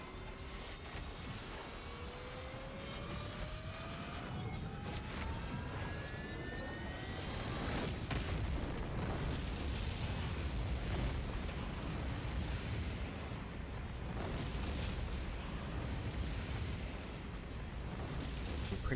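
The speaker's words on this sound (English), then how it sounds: "Big explosion." A big explosion in the mech action game Daemon X Machina: Titanic Scion, heard as a dense, sustained roar of rumbling blast noise with crackling debris and sweeping tones, loud and continuous throughout.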